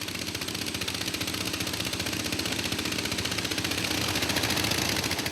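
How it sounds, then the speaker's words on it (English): A gold prospectors' engine-driven pipe sucks up river sand in Peru, its motor droning in a steady, close, pulsing rumble that holds constant throughout. "A pipe sucks up the river sand with its specks of gold."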